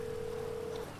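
A single sustained electronic tone sounds as a phone dials to call up a car in GTA 5 Online, holding steady for under a second before stopping, clear over quiet game ambience.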